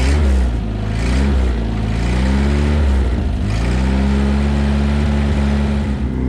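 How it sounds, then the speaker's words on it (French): A 1967 Toyota Corona RT40 engine catches and runs at a steady, loud, close-up idle with rising and falling revs and a deep exhaust rumble; there is no talking. "je vais démarrer pour voir ce que ça donne."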